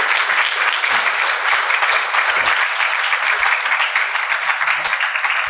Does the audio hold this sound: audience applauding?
yes